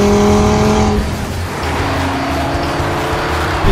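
Audi TT RS in Vegas yellow accelerating loudly and close, engine note rising then dropping as it shifts gear around the one-second mark, then droning steadily on with a faint tyre or road hiss beneath.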